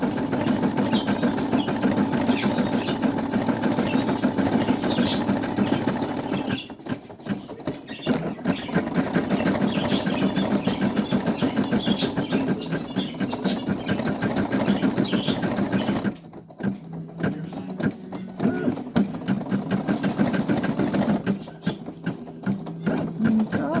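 Embroidery machine stitching small detail lines on a sleigh seat for a Christmas-themed design, a steady rapid needle chatter running close and continuous, with two brief pauses where the motor stops before stitching resumes.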